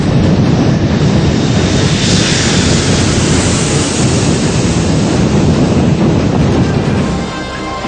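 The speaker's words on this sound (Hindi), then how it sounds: "सोमवार दोपहर 12:05 पर पालम एयरबेस पर उतरा C-17 ग्लोबमास्टर" A C-17 Globemaster III military transport aircraft lands at Palam Airbase, a loud, sustained roar mixed with wind buffeting that holds steady and then eases slightly toward the end.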